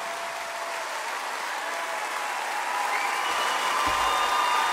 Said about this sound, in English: Standing ovation in Grand Ole Opry.